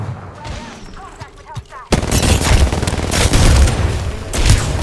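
Bursts of video game gunfire: a quieter stretch of scattered distant shots gives way to a loud, dense fusillade of rapid overlapping reports and booms that continues to the end.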